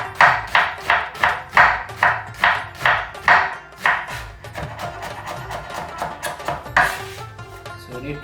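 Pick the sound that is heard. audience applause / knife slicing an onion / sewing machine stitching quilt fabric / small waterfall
knife slicing an onion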